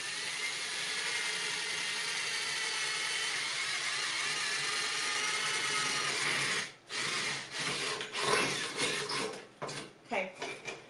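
A drill grinds steadily through a metal can for several seconds, then breaks into uneven scraping and rattling bursts, with some speech nearby.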